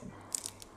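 A single crisp bite into hot homemade pizza, a short crunchy crackle close up in quiet surroundings.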